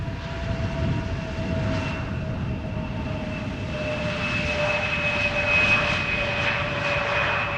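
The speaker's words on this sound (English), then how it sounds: "this is the Embraer 175 arriving from Luxembourg" An Embraer 175 jet airliner arriving at Amsterdam Schiphol Airport, a steady loud engine roar with a high whine that swells slightly as it nears, no talk.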